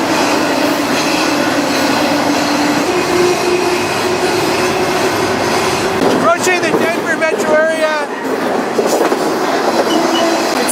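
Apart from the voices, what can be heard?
riding a moving freight train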